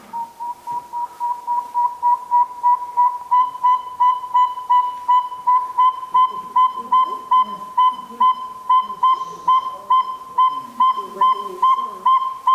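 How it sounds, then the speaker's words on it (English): A northern saw-whet owl gives a long series of evenly spaced whistled toots, a clear, steady, monotonous note repeated about four times per second, with faint background noise between notes. "kind of a tooting, whistling sound, repetitive over and over and over, much like a squeaky wheel turning"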